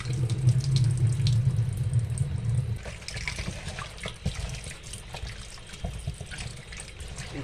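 Running tap water splashes steadily into a sink while goat meat is rinsed after a soak in apple cider vinegar water, loud and close for the first few seconds, then softer trickling and handling.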